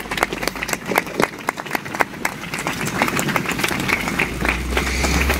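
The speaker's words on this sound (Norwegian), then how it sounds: "Applaus!" Scattered applause from a crowd at an outdoor demonstration in front of a government ministry building, individual claps audible in an uneven rhythm over a low rumble of traffic or engine noise, with some murmuring.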